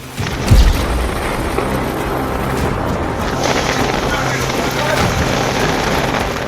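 Strong winds of a dust storm in Prayagraj roar steadily as a loud, broad whoosh with microphone buffeting and a thump near the start, constant throughout with no clear talk.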